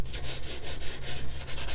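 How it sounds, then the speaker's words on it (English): Wood veneer being sanded with a super fine grit sanding sponge, a steady soft rubbing that sweeps back and forth in quick, even strokes, close up with no talking. "then I take Dixie Belle's sanding sponges, super fine grit"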